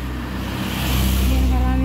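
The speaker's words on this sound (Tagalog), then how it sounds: "Sasakyan." A vehicle on a residential street in the morning passes nearby, its broad engine and tyre rumble swelling louder through the second half under steady traffic hum.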